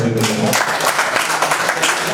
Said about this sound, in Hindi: एक बार जोरदार तालियां गाए।